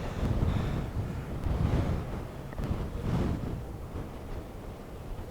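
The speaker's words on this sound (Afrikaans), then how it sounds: "As ek my hand los, waai die wind my af." Strong wind buffeting a microphone on the mountain top at Mariepskop, a loud continuous roar that swells in gusts throughout with no other sounds.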